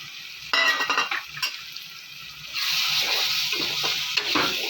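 Eggs go into a spiced masala curry in a pan, with a few clinks and splashes first, then a steady close sizzle and bubbling that rises partway through and keeps going.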